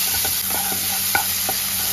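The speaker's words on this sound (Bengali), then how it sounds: "এবার চিংড়ি মাছটা হালকা করে একটু ভেজে নেব" Prawns seasoned with salt and turmeric fry in oil with a steady, close sizzle. A few soft stirring clicks sound over it and no one speaks.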